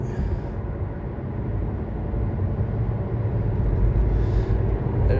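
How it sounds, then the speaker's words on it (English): A car passing outside, a loud, continuous broadband rumble and road roar that fills the whole stretch and swells slightly toward the end, with no talk over it. "because of the sound of the car,"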